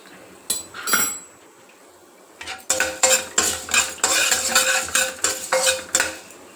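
Spices with cumin seeds and dried red chillies frying in a pan, a series of rhythmic clinks and scrapes of a spoon against the metal over a soft sizzle, close and fairly loud after a brief quiet start.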